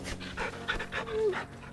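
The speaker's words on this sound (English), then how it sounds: "Bark for me, Torgal" Torgal, the wolf-dog companion in the video game Final Fantasy XVI, pants and gives a short vocalization, close and moderately loud, lasting under two seconds over soft game background.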